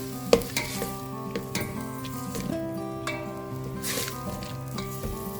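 Cabbage and tomato palya, North Karnataka style, is stirred in a hot pan, giving soft sizzling with occasional scraping clinks of the spatula, fairly quiet, over faint background hum.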